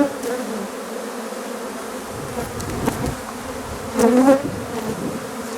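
Honeybees buzz steadily around an open hive, a dense close swarm hum throughout with a louder surge near the end as bees drift past.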